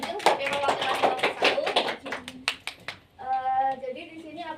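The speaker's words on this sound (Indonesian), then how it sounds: "Mari kita beri tepuk tangan untuk Mbak Lujung sebagai perwakilan kelompo" Classroom audience clapping for a group representative during a micro-teaching practice session, short bursts of claps mixed with talking voices, then a voice speaks alone near the end.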